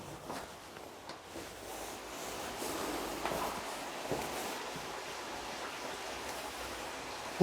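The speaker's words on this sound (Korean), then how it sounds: "물소리만 크게 들려요." Water rushing inside a mine tunnel cave in winter, a continuous broad hiss that builds a little after the start and holds steady, echoing and fairly faint, with occasional soft footstep-like knocks.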